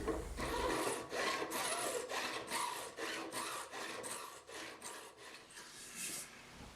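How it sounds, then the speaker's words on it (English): Metal file rasping across the clipped fret ends on a handmade mandolin, a close series of rhythmic back-and-forth strokes, about a dozen in steady succession, with no voices. "filing the sharp clipped ends of those frets"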